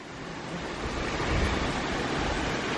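A 4-inch hydro turbine running on a water siphon gives a steady, broadband rushing roar of flowing water, loud and continuous throughout with a slight swell midway, and no voices.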